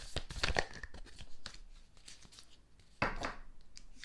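A single oracle card is pulled from a deck during a tarot-style reading: close, soft papery rustles and a sharp slide near the start, then quieter shuffling and another crisp card snap toward the end, with no voices.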